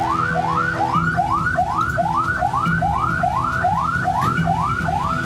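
An ambulance siren in Magelang, Central Java, sounds steadily as ambulances ferry victims to hospital. A rapid, rising wail repeats about twice a second, clear and continuous over low background rumble.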